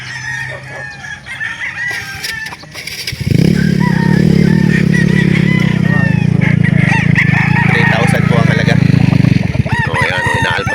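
Gamefowl roosters crow at a rooster sale in Calauan, one loud drawn-out crow up close over a busy background of other birds, clucking and distant chatter.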